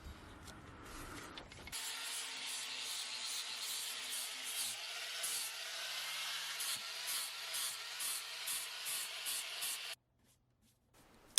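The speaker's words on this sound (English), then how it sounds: "I'm going to be using the angle grinder with a flap disc to really smooth over the sharp edges and lines" An angle grinder with a flap disc smooths the edges of a carved figure made of epoxy and wood, running as a continuous high-pitched whir for about eight seconds before stopping abruptly.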